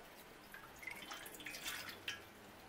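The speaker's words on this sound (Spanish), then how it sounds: "vamos a poner el agua." Water is poured into the pan of a bread machine, a quiet trickle and splash of liquid with a few drips, faint and close with no talking.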